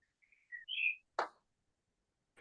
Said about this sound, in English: The birds make a nice song singing to us as we go.